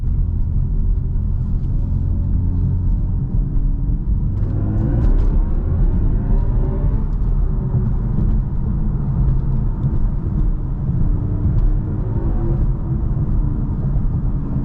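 Steady low rumble and whir of a 2024 BMW i4 M50 electric car driving, with a smooth rising tone as it accelerates for a few seconds, continuous and moderately loud throughout.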